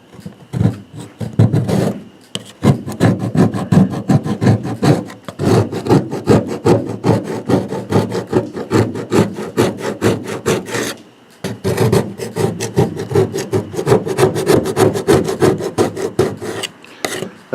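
A hand scraper drags repeatedly over the aluminum hull of a 1967 Starcraft boat, lifting tacky paint stripper residue in loud, close, rhythmic rasping strokes with brief pauses between runs.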